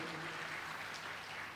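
A church congregation applauding during a sermon, a dense, sustained wash of clapping from many hands, moderately loud and steady, with a faint voice underneath.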